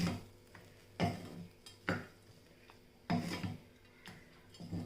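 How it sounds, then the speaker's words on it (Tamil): A spoon stirs and scrapes amla rice in a pan, with several distinct, fairly quiet scraping strokes spaced about a second apart and soft clinks between them. "இதை அப்படியே நல்லா மிக்ஸ் பண்ணி விடணும்."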